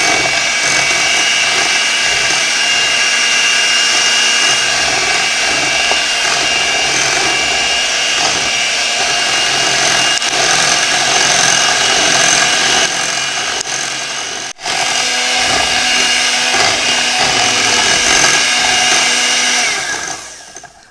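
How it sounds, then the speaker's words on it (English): Electric mixer whirs steadily on low, beating cheesecake batter as eggs are added, a loud continuous motor drone with a brief dip midway before cutting off at the end. "we're going to beat this on low as we add our eggs"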